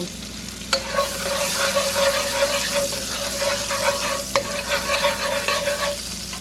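Minced garlic sizzles in melted margarine in a skillet for shrimp alfredo, a close, lively crackle with stirring scrapes and a couple of sharp clicks against the pan.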